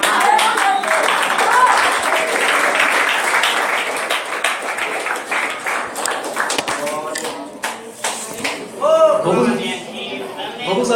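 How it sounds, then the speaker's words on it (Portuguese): A church congregation claps in praise, dense rhythmic clapping with chatter, fading as a preacher's voice comes through near the end. "Vamos louvar o Senhor Jesus com as palmas"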